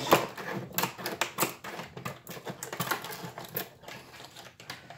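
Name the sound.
opening tool packaging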